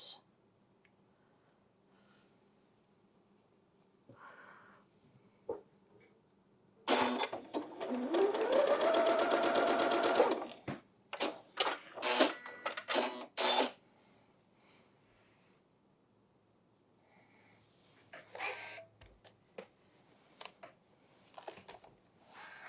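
A sewing machine stitches quilt pieces for a Farmer's Daughter quilt block, a steady whirring run of about three seconds followed by short stop-start bursts, close by, with handling rustles and quiet moments around it.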